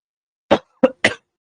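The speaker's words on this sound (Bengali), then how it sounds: "কেন জানি খুব কাশি আসতেছে, গলাটা অনেক ড্রাই লাগতেছে" Three short, dry coughs in quick succession, close and fairly loud, with silence around them.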